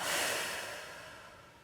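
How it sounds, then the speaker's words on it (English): Breath released through an open mouth during a yoga relaxation, a single soft, airy exhale that fades steadily over under two seconds, close and quiet with no talking. "Open the mouth, exhale."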